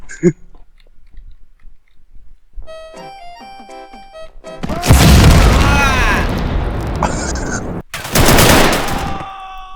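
Roblox gunfire and explosions: sparse clicks and tones first, then a loud sustained burst of booming shots and blasts with a brief gap before more.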